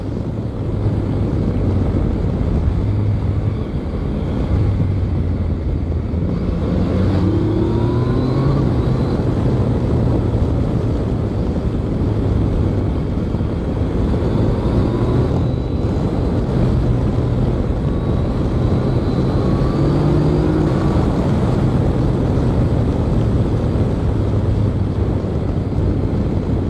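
A 2020 Yamaha MT-09 Tracer GT motorcycle rides along with its engine droning steadily under heavy wind rush, rising and falling in pitch through gear changes over a long continuous stretch.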